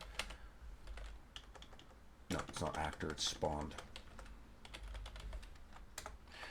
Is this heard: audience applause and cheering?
no